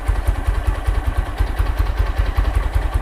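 A Honda XRM125 motorcycle with a 57mm block and carburetor idles while warming up, its small single-cylinder engine putting out a steady, rapid low thumping close by.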